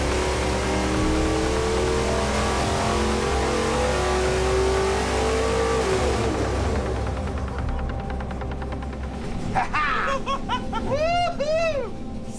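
Crosstown V8 engine revving on a dyno up toward 6,000 RPM, loud sustained roar that climbs then drops off, followed by excited voices and whistling cheers close by.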